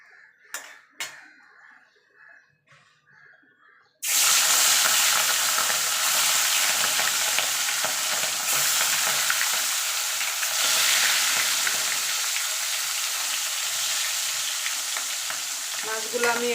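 Rui fish pieces dropped into hot oil, bursting into a loud, steady sizzle that fills the pan and continues without a break after a few quiet handling knocks.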